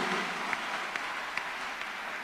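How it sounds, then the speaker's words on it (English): A church congregation at a Thursday counselling and deliverance service claps along in a faint, distant wash of applause, with a few sharper individual claps standing out at a steady pace. "Clap your hands unto God of the choosing."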